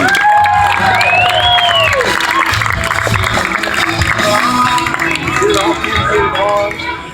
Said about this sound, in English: this round of applause is for you, sir